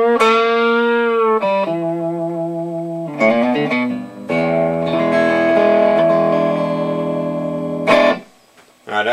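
Distorted electric guitar plays a bluesy lick of bent, sustained notes and quick runs, loud and upfront with a reverberant tail.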